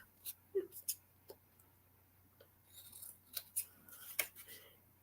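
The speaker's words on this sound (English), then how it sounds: "So I'm just going to trim it, all the excess off" Scissors trimming excess paper for a junk journal, a series of quiet, close crisp snips at irregular intervals, with a faint background hum.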